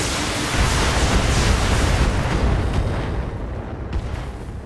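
Mech weapons fire in the Battletech game with a Jaegermech, giving a dense rumbling barrage of booming blasts that slowly fades over a few seconds.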